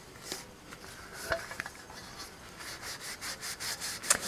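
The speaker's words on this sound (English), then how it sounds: "as I'm rubbing and scrubbing here." Excess paint is rubbed and scrubbed off a painted folk-art piece, giving soft, close scratchy strokes that turn into a quicker, steadier rhythm toward the end. The sound is quiet throughout.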